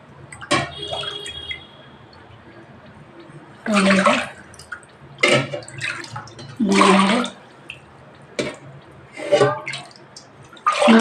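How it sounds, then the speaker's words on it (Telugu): Four cups of water poured into a pot while making beetroot vadiyalu, heard as a few short splashy bursts between stretches of a speaking voice. "నాలుగు కప్పుల వాటర్ పోసాను"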